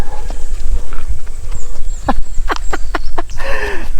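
Rhythmic hoof clip-clops of a ridden horse, a series of sharp knocks over a steady rumbling background, growing quicker toward the end.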